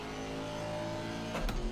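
Race car engine droning steadily at Laguna Seca in a racing video game, a constant mid-volume tonal hum that swells briefly toward the end, with no talking.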